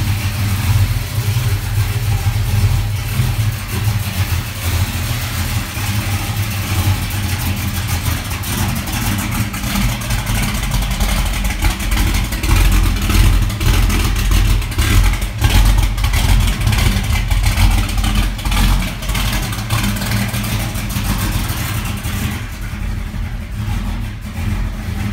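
A 1972 Chevy C10 truck fitted with Holley Sniper EFI runs at its first startup, a loud, close engine droning steadily with revs rising and falling across the whole stretch, with no talking.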